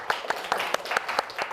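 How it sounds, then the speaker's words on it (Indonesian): A classroom of students clapping together in quick, irregular bursts, a short round of applause that sounds close and fairly lively. "tepuk tangan untuk kita semuanya"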